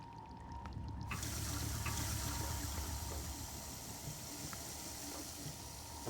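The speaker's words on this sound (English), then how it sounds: "There's water down there." Water runs steadily down below in the Prey video game, a faint continuous hiss and splash of flowing water that holds even throughout, with a few small clicks near the start.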